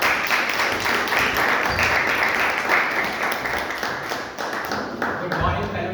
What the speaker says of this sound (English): Let's welcome with a thunderous sound of applause